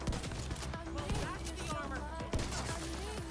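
Gunfire in The Division 2 video game, repeated sharp shots at irregular intervals mixed with a busy game soundscape, moderately loud, with someone talking over it.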